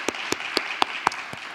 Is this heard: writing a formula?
no